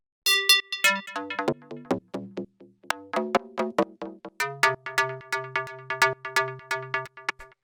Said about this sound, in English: just 2 sine waves doing some FM, pretty simple sort of FM pluck sound